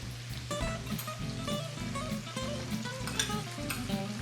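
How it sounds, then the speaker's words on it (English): Onion, celery and pancetta sauté in a pan with a soft, continuous sizzle and light crackling, heard under quiet background music. "Saute this a little bit."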